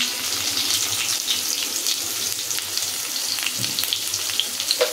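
Turmeric, chili, cumin and coriander spices fry in a pan for a boal fish and vegetable curry, giving a steady, close, hissing sizzle with small crackles throughout.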